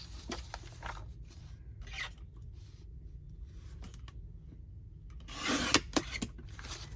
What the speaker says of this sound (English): I'm going to trim this bit off